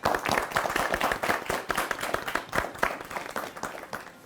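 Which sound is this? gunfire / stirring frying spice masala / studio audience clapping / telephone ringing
studio audience clapping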